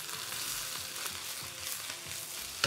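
Onions sizzle steadily in a hot pan as they soften for a Chinese takeaway-style dish, a continuous close frying hiss with a brief clatter of tossing near the end.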